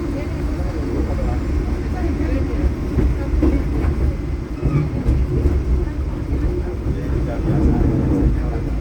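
Passenger train KA Jayabaya on the Malang–Surabaya line, heard from inside a carriage as it rolls slowly past Waru station: a continuous low rumble with rhythmic clickety-clack of wheels over rail joints.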